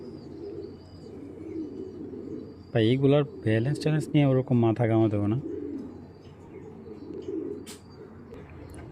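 Large racing pigeons, a black checker pair among them, coo softly and steadily in the background while someone talks at length over them.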